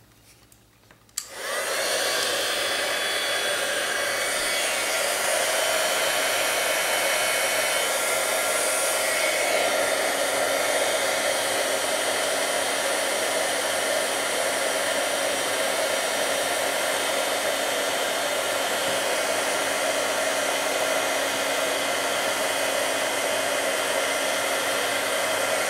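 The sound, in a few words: heat gun heating up for heat embossing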